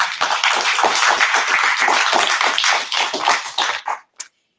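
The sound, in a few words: audience applause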